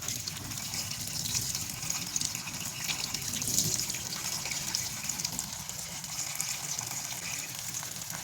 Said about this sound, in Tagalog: ang unang gagawin natin ay hugasan natin mabuti itong mga mulberries para matanggal yung mga alikabok